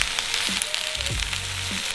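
Vegetables seasoned with a paprika spice mix fry steadily in a pan, a soft continuous sizzle with faint clinks from stirring, no talking.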